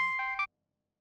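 A short electronic phone ringtone, three quick bright tonal beeps played close and clear, then cut off abruptly into silence.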